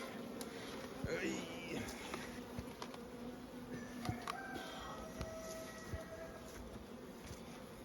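Honeybees swarm around an opened hive's brood box with a continuous buzzing drone, individual bees passing close by, while a person speaks quietly over it.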